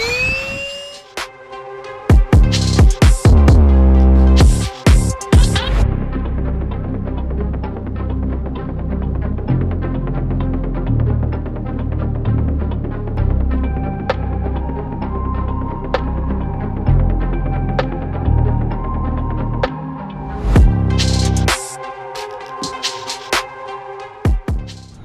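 A portable handheld car vacuum cleaner runs with a loud, steady droning whine and hum close by, with clicks and bursts of handling noise at the start and end as it is switched and moved.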